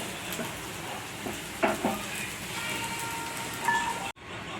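Sweet corn frying in white oil in a pan, a steady soft sizzle with a couple of faint stirring clinks, ending in an abrupt cut.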